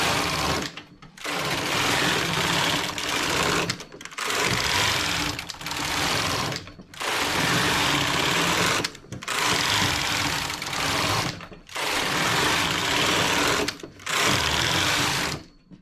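A knitting machine carriage sweeps back and forth across rows while knitting a zigzag vest, giving loud, steady rasping runs of two to three seconds each, broken by brief pauses at every reversal, with no talking.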